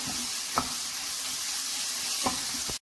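Tomato masala for chutney sautés in a pan with a steady sizzle, broken by a few soft scraping stirs of a spoon.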